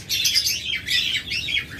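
Caged pet birds such as budgerigars and lovebirds chatter in quick, shrill bursts of chirps and squawks, two close clusters of calling with brief dips between, no voices.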